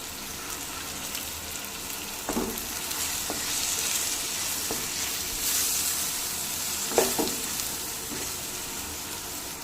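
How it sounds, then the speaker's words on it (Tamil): Coriander and mint stirred into a frying tomato mixture for egg vermicelli biryani, a steady close sizzle with a few scraping knocks of the spoon against the pan. "இது கூட நம்ம எடுத்து வச்சுருக்கிற கொத்தமல்லி புதினாவை ஆட் பண்ணி நல்லா கிளறி விட்டுக்கலாம்"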